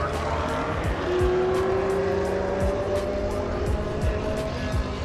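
A silver Porsche 993 Carrera on Cup 2 wheels, with a sport exhaust package and a manual gearbox, drives past at a car show gathering. It makes a steady, moderately loud engine note with a rising tone, over a busy crowd ambience.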